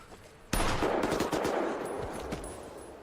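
Gunfire erupts in an urban night film scene: after a quiet half second a sharp blast hits, followed by a rapid burst of shots and a long booming reverberation.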